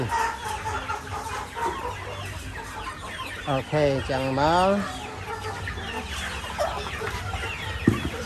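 Caged chickens on a poultry farm cluck and squawk in a busy, uneven chorus, with one louder rising call midway, while a person talks over them.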